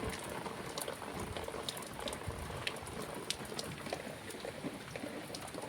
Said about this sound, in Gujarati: હવે પાણી હાલતા થઈ ગયા છે, વરસાદ આવી ગયો.